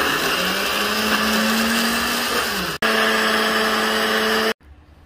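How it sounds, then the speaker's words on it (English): A blender whirs loudly and steadily as it blends toasted white bread, its motor pitch shifting slightly before a brief cut and then stopping abruptly. "into a blender let's add 2 slices of toasted white bread and blend that with our thumbs"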